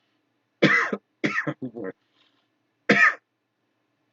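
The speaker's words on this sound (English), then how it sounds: "I've been coughing up phlegm" A person coughs and clears their throat at a hybrid meetup, two harsh close bursts separated by a few brief spoken words.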